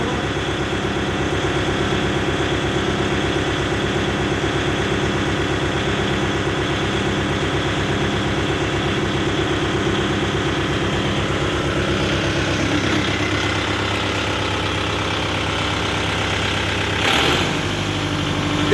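A Kubota MU 5502 tractor engine idles steadily and close by, a continuous even rumble with a faint rhythmic pulse, briefly shifting near the end.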